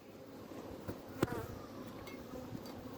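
Honey bees buzzing on hive frames in early February, a soft, fairly faint hum with a few brief louder passes of single bees close by, no talk.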